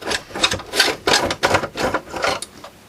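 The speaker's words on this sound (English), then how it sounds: "I'll actually unscrew this power board after all, since it's only the power socket holding it in" A screwdriver unscrewing a power board inside a Sony boombox, close-up bursts of rasping, scraping turns in a quick uneven rhythm, about seven strokes in three seconds.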